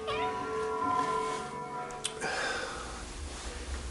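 A house cat meows insistently at close range, one long drawn-out harmonic cry followed by a shorter call, over a steady background hum indoors at night.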